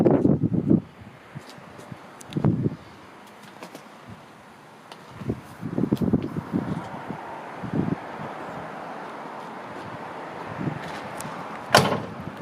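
Several door thuds from a 1969 Chevrolet Chevelle SS 396 hardtop spread out over time, with scattered clicks and handling noises in between and light wind in the background.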